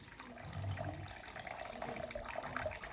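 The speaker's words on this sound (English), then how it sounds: "410 grams of nice and warm water." Warm water runs steadily from a kitchen tap into a container while sourdough focaccia dough is being prepared, a soft continuous splashing stream with no one speaking.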